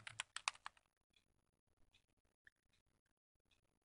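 Fingers type text on a computer keyboard, a quick cluster of crisp clicks at first, then sparse soft taps trailing off, quiet and close.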